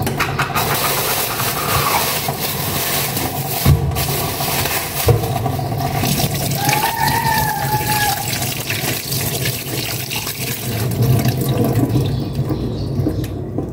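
Milkfish (bangus) is rinsed under a steady stream of running water, a continuous splashing wash with a low engine-like hum beneath, close and fairly loud, with a few brief knocks.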